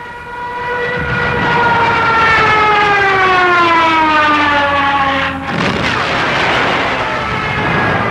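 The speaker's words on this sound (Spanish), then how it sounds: "La trompeta de Jericó, una sirena fijada al avión, ululaba sobre Polonia" A Stuka dive bomber's Jericho trumpet, a siren fixed to the aircraft, wails loudly and continuously. Its tone glides steadily downward for about five seconds, cuts off briefly, then a second wail rises. No one speaks.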